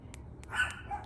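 A dog barks a few times indoors, short sharp yaps spaced apart, faint and somewhat distant against a quiet room background.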